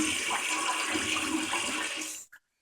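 Water rushes steadily into a Kohler Pompton toilet tank as it refills, then cuts off abruptly near the end, leaving silence.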